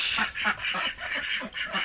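A flock of ducks quacks continuously in quick, overlapping calls, fairly close and steady throughout.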